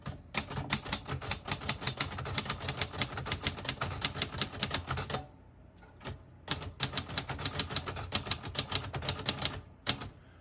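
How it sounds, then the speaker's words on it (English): Rapid clacking keystrokes of a 1956 Royal Quiet De Luxe portable manual typewriter, a dense run of taps, a brief pause, then another burst of typing. "I'll type a sentence on the next line."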